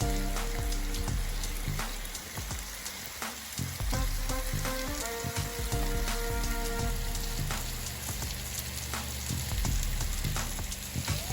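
Marinated Cornish hens sizzle on a grill with a steady, dense crackle that holds loud and constant throughout, with a few sharper pops and a low hum beneath.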